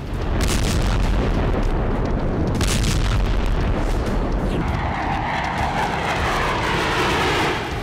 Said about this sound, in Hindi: इजरायल के ताकतवर फाइटर जेट, आसमान से गिरते घातक बम